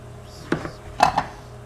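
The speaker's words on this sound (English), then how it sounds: "Just kind of roughly chopping our tomatoes up." A knife roughly chops fresh garden tomatoes on a board, giving a few separate close thumps, with no voice over it.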